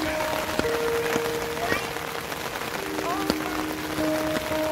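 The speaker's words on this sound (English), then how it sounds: "Oh, it really rained, didn't it?" Rain patters steadily on surfaces during a downpour in Suriname, a dense even hiss with scattered drips and brief tonal chirps over it.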